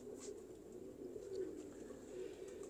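Soft low cooing of a Sialkoti pigeon, a faint, steady murmuring coo repeating close by in a quiet setting.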